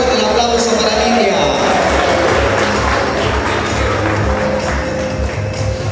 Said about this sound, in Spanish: Fuerte el aplauso para Lidia.